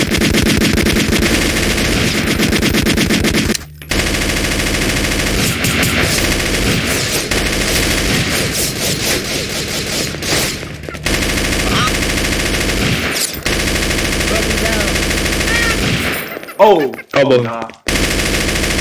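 Rapid automatic gunfire fills a Garry's Mod game session, loud sustained bursts with short breaks and a final burst of sharper shots, while a player speaks briefly over it.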